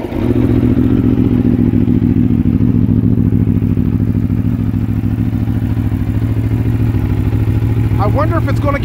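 An Aprilia RSV4 1100 Factory motorcycle engine, naturally aspirated and over 1,000 cc, running with a steady, loud, close throbbing rumble; a brief voice comes in at the very end.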